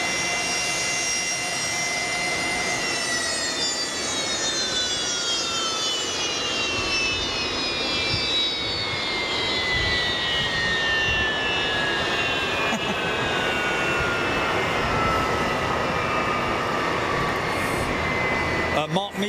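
A jet airliner on the runway at Boeing Field roars loudly with thrust reversers, a broad engine rush with whining tones that slowly fall in pitch over nearly twenty seconds.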